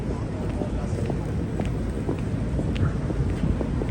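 Steady wind roaring and buffeting against the microphone on a Manhattan street near the Empire State Building, a constant broadband rush with faint background noise throughout.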